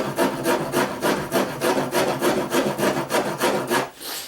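Hand tool gouging and shaving wood along the bottom edge of a door, about eleven steady rasping strokes in a quick back-and-forth rhythm, close and fairly loud, then fading to a quieter scrape at the end.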